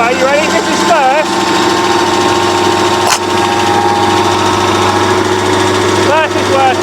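A Chieftain tank engine runs loudly and steadily while its TN12 gearbox is tested in first gear, a deep throbbing drone with a mechanical whine on top and brief voices over it.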